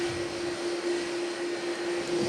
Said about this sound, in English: when this jet takes off, it blew everybody over